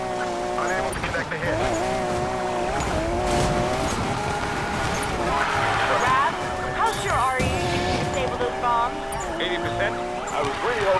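A Lamborghini off-roading in the racing video game Need for Speed Payback, with a steady roaring engine, shifting revs and tire noise over rough ground, continuous and loud, with talk over it.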